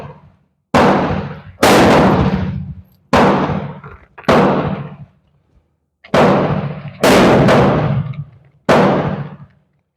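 Seven sharp rifle shots from a Beretta Olympia firing Winchester Super X .22 long rifle 40 grain round nose rounds, each a loud crack with a decaying tail, spaced irregularly about a second apart outdoors.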